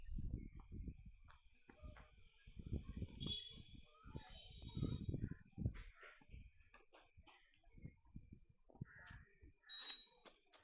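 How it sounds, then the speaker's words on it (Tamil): A smart blind stick's buzzer gives short, high-pitched beeps, once near the middle and again near the end. The beeps are faint, and a person walks and talks quietly between them. "கைஸ் பஸர் பீட் பண்ணுது."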